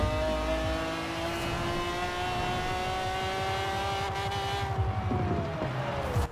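Stock 1997 McLaren F1 GT engine in Forza Horizon 4, a loud, steady high-revving drone with strong harmonic whine and a rising-then-falling pitch sweep near the end, heard alone without talk.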